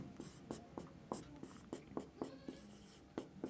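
Pen scratching on paper while working through a coordinate geometry problem, steady rhythmic strokes and taps repeating throughout, close and clear with faint background voice.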